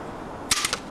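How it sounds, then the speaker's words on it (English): A Beretta gas airsoft pistol fires at close range: one sharp crack followed by a few quick, fainter snaps in under a second, against a quiet outdoor background. "Right, so this is the close range leg shot."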